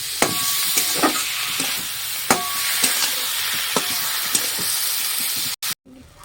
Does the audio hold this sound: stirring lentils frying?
yes